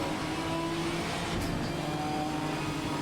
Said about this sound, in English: You can hear him blending in and out of the brakes onto the throttle.